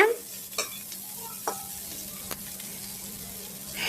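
Rava upma mixture stirred in a pan, with a soft steady frying hiss and a few light scrapes of a spoon, close by and alone with no talk.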